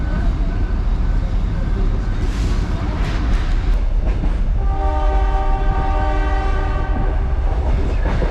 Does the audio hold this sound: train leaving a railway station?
yes